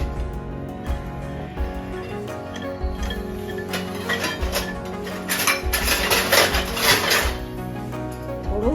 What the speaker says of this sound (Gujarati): હવે આપણે કાજુને શેકવા લાગ્યા છીએ.